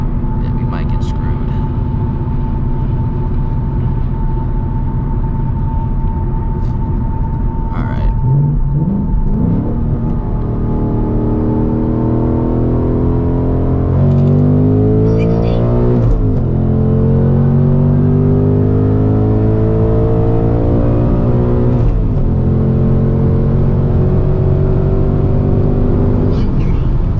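A Ford Mustang GT S650 V8 rumbles from inside the car, then revs and accelerates hard in repeated pulls with rising engine pitch and gear shifts, loud and close throughout.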